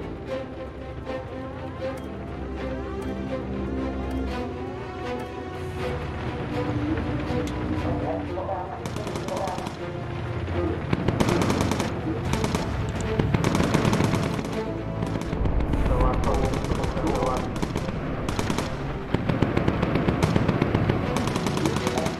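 Machine guns firing continuously from a bomber aircraft in the video game Bomber Crew, dense rapid bursts that grow louder and heavier, with someone speaking French over the gunfire.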